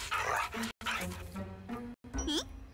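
A cartoon dog lets out a few bow-wow barks and yips close up, with a rising whistle-like cartoon effect at the end and light background sound.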